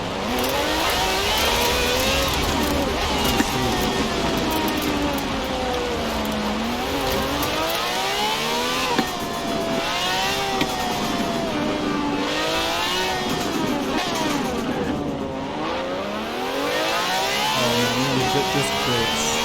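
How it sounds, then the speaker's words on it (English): Car engine in the racing game Forza Horizon 4, revving and shifting continuously as the car is driven, with rising and falling engine pitch sweeps throughout, loud and close with no talking. "So let me drive around this car a little bit first"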